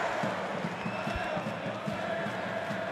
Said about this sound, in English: what you're hearing there, ladies and gentlemen, is the booing from the Yellow Fever, who are just up to our right